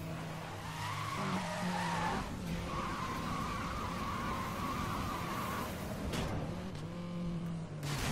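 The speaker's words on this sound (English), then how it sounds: "I don't think I've ever done a nitrous peely or whatever, a nitrous burnout" A car in Need for Speed Most Wanted 2012 does a nitrous burnout, tires squealing and skidding loudly for several seconds under a roaring engine, with a brief dip before the screech resumes.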